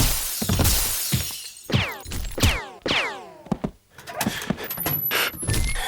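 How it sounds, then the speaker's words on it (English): Radio drama struggle with a crash through a toilet door: a cluster of sharp bangs, thuds and rattling impacts in quick succession, with shouted vocal bursts between the hits, close and loud. "The police officer and Dr. McLean came crashing through the door of the WC and out onto the station."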